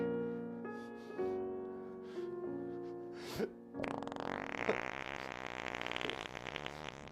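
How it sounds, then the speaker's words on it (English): A long, drawn-out fart: a sustained buzzing tone that shifts pitch in steps, then breaks into a rougher, louder sputtering stretch, close and alone with no talk. "despite being dead, releases her one final fart that she had been holding in all that time"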